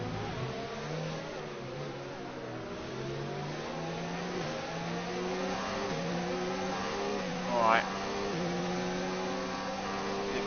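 Racing car engine in F1 2019 during an overtaking move, a high screaming engine note rising and shifting through gears continuously, loud and close, with a brief sharp whoosh partway through.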